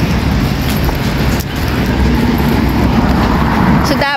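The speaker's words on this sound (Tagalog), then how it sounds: "Ang ingay ng mga sasakyan." Loud, steady road traffic noise on a Hong Kong street forms a dense, continuous rumble with passing vehicles and some voices mixed in.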